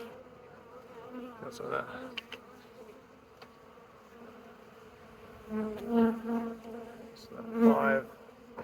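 Bees buzz steadily around an open hive being inspected in the brood nest, a close droning swarm with swells of louder buzzing, while someone talks briefly over it.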